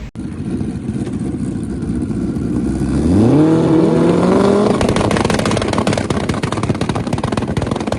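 A race car engine revs steadily through a pass, rising sharply in pitch around the middle as it accelerates with a changed clutch setting, then holding a loud, sustained drone to the end.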